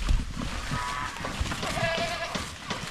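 Native goats on a drought-stricken farm let out a couple of short, wavering bleats, fairly faint and somewhat distant over a rough background of outdoor noise.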